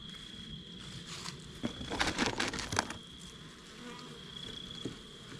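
A caught honey bee swarm hums inside a hive box during fall beekeeping, a soft buzzing that swells for about a second amid nearby handling bumps and footsteps before settling back down.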